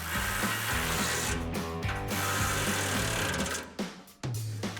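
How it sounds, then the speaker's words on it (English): Ratchet with a 13mm socket tightening bolts on Go Rhino RB20 running boards fitted to a 2024-2025 Toyota Tacoma, a steady, close mechanical clicking that runs continuously before a brief pause near the end. "So we're gonna grab our ratchet, 13mm socket, and tighten this down"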